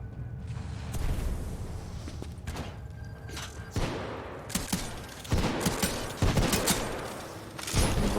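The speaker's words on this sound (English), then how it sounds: "Robot shooting grenades at you." Grenade fire from a robot enemy in the video game Titanfall 2: a rapid barrage of thumping shots and booming blasts, loud and dense, with bursts clustering through the second half.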